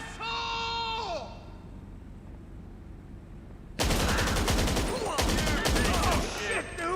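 Automatic gunfire in GTA 5 Online: after a quieter stretch with a voice, loud rapid bursts of shots crack in close, continuing in several volleys to the end.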